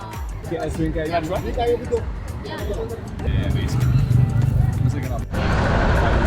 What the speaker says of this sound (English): dodging traffic through these hectic streets in Harar